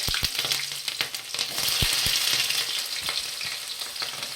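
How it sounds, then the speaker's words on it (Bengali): Onion pieces crackle and sizzle as they hit hot oil in a pan for a chicken pasta dish, a loud close hiss with a few sharp spatula knocks and stirring scrapes. "তেল গরম হয়ে গেছে, এবার পেঁয়াজের টুকরো"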